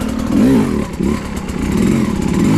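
A 2022 Sherco 250 SE Factory dirt bike engine drones loud and close while being ridden, its pitch rising and dipping as the throttle changes.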